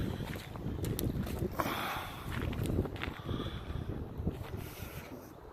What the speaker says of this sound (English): it's super windy out here. I hope y'all can hear me